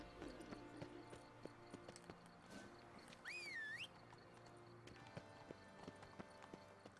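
Hooves of a horse in The Witcher 3 video game clip-clop at a steady walking pace, quiet and regular, with game ambience and a brief rising synthetic tone partway through.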